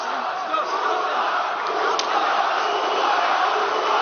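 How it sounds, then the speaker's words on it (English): A dense pro-Nurmagomedov fight crowd roars inside the Etihad Arena during a UFC bout, a continuous loud wall of cheering and shouting with a brief spike near the middle. "Pro-Nurmagomedov crowd here inside the Etihad Arena"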